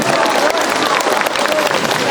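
A large outdoor crowd at a youth day celebration claps and cheers loudly to welcome a Ukrainian rock band on stage, continuous applause with a voice faintly audible.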